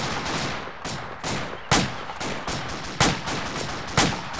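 Arma 2 beach-landing gunfire cracks in a steady series of loud, close shots roughly every half second, each with a hard attack, over constant battlefield noise.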